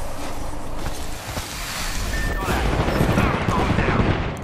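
Rapid bursts of gunfire crackle in the shooter game Apex Legends, a dense fusillade of shots layered over rushing ambient noise, fairly loud and continuous without pause.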